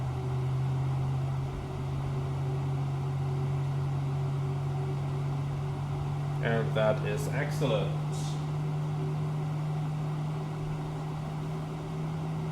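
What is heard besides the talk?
Airbus A321LR jet engine starting in Flight Sim Labs video game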